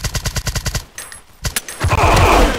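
Guns in the Blockade 3D shooter on the Dead City map let off a rapid burst of automatic fire, then after a short gap a few more shots and a denser, noisy volley, loud and close.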